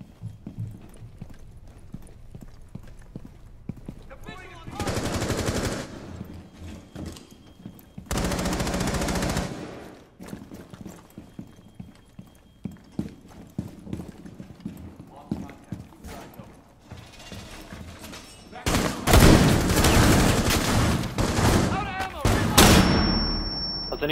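Cluster charge blasts go off in Rainbow Six Siege as loud broadband bursts of rapid, clustered detonations, several separate volleys with a heavy sustained burst near the end, mixed with gunfire and voices talking.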